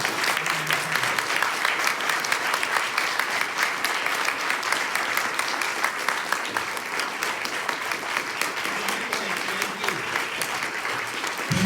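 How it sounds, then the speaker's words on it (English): Sustained applause from a large audience fills the whole stretch, a dense, steady clatter of many hands clapping at once with no pauses. "Let's give the ambassadors a big round of applause."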